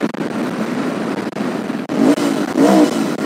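A Royal Enfield Interceptor twin-cylinder motorcycle revs its exhaust, with a steady loud engine rumble and a couple of sharper rising revs toward the end, heard close with no talking.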